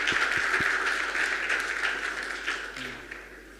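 An audience applauding as a primary school group takes the stage at a science buskers festival, a steady wash of clapping that fades gradually toward the end.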